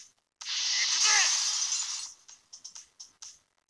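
Glass shatter effect in the video game Ryu ga Gotoku Online during a summer festival scratch card event, a loud sustained crash with ringing shards followed by several short clinking tinkles that trail off.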